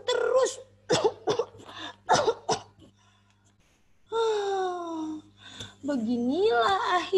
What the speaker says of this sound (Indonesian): Aku batuk terus.